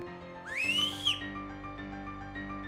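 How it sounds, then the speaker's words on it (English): A whistle in a video game rises sharply in pitch and holds briefly before cutting off, sounding clear over a quiet, droning ambient game soundtrack, with no talk. "Did you hear that? A whistle? It came from the right."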